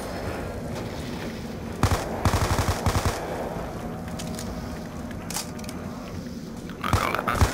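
Gunfire rattles in Call of Duty Black Ops 2 Zombies mode, with bursts of rapid shots over a dense, continuous game soundscape of loud ambience and effects.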